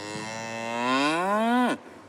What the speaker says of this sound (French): À Oban, 2 fois par an, c'est le paradis des vaches des Highlands.